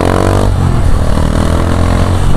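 A Honda Beat motorcycle fitted with a racing exhaust revs loudly and close by, a dense steady engine roar with harmonic drone and slight clatter throughout, no voices.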